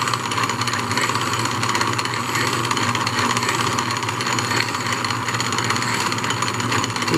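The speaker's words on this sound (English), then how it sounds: "not as fast as a wood lathe, but this is an example of how this works." A 1920s Wade bench lathe runs steadily for the whole stretch, giving a constant, dense mechanical whir and drone with no pauses.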